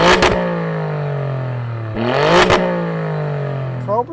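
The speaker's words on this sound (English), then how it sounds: "if you want it to sound as loud as it can, you have to put the car into race mode," Sports exhaust of a 510 hp Alfa Romeo Stelvio Quadrifoglio in race mode, idling loud and close, then blipped twice with sharp crackling rises in pitch that fall back to a steady rumble, ending with a brief pop.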